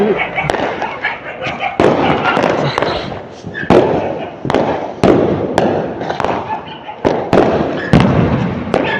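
Single-shot Diwali fireworks launch and burst outdoors during Bandi Chhor Divas celebrations, a rapid run of loud, sharp bangs and thumps repeating every second or so, close by, with voices in the background.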